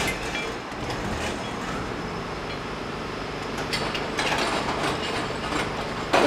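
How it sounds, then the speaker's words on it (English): An industrial spray washer cleaning heat-treated parts runs inside a heat-treating plant, giving a steady loud mechanical roar with clattering, ratchet-like machine noise throughout. "This is a spray washer"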